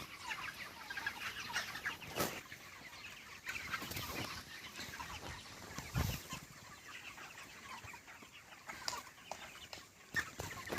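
Broiler chickens on a straw-litter farm clucking and murmuring softly, with scattered sharper squawks rising above a faint, steady flock background; no talk.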